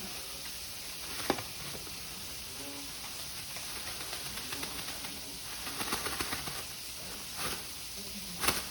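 Scallops being sautéed for gumbo, a soft continuous sizzle and hiss heard close up, with a few faint clicks and brief murmurs of distant voices in the background.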